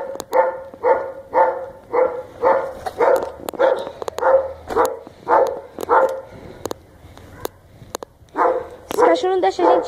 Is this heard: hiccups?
no